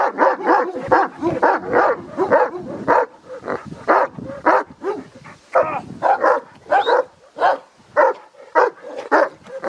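A dog barks over and over, loud and close, in a steady string of sharp woofs with short gaps and occasional whiny yips mixed in.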